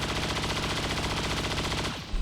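Sustained rattle of rapid gunfire from a grenadier in XCOM 2, loud and continuous, then cutting off abruptly with a heavy thud at the end.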